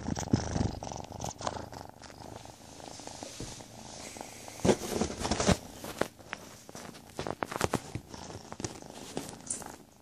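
A house cat close to a camera purrs and shuffles around it, with scattered soft thumps, rustles and scraping knocks as the camera is pushed and tumbles to the floor. Quiet, intimate handling noise, no talking.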